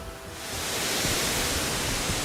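A three-tiered waterfall on Wawonii Island gives off a dense, continuous hiss and roar of falling water that swells up after the first half second and then stays loud and steady.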